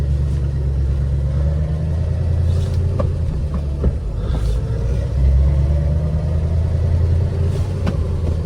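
A V8-swapped Mercedes 240D runs and drives slowly on a cold day, its engine a steady low rumble up close with slight variations in pitch and no talk.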